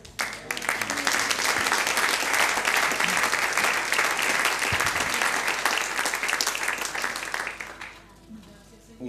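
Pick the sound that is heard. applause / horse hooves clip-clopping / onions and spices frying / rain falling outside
applause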